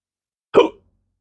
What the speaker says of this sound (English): Excuse me, I got the hiccups.